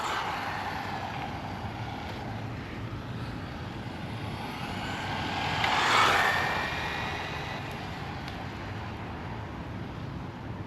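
Tamiya TT-02D Honda Civic SiR drift-spec RC car with a sport tuned motor and slick tires passes by, a steady whirring hum that swells as it nears around the middle and fades again, over constant background noise.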